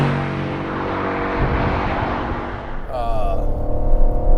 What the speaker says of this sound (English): I mean, it sounds muscle car-y.